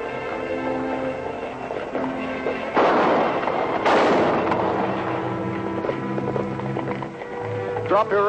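A horse-drawn stagecoach arriving in a 1950 Western, with rumbling wheels and hoofbeats under background music, a sharp bang partway through.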